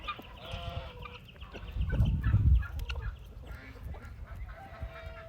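Backyard chickens, including home-hatched birds, cluck and call close by near a coop in the morning, with a louder burst of low flapping or scuffling in the middle and scattered bird calls.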